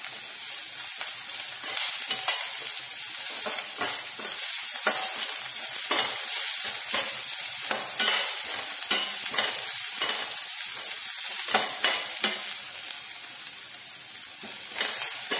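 Cabbage stir-frying in a hot pan for paneer fried rice, a continuous close sizzle broken by repeated scraping strokes of a spatula, with no talking.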